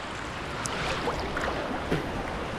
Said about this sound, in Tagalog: Laki, laki ng alon, no?